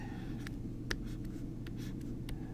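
Pen or marker writing out a polynomial equation, faint scratchy strokes in short irregular bursts over a low steady hum, with no talking.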